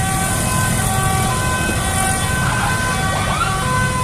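A passing ambulance siren, its wailing tones rising and falling over steady street traffic noise, fairly near and loud.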